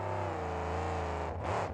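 A truck's engine roars at a steady high rev as it spins tight cyclones in the dirt at a drag racing event in Oklahoma City, loud and continuous with a brief dip near the end.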